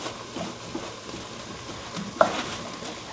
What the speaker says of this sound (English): Okay, onions and ground beef are going.